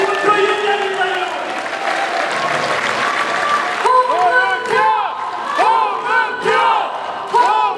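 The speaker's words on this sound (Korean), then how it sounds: "여러분 큰 박수로 맞아주시기 바랍니다" A crowd at a People Power Party Chungnam convention applauds loudly for about four seconds to welcome provincial party chairman Hong Mun-pyo, then the clapping gives way to raised voices and cheering from the hall.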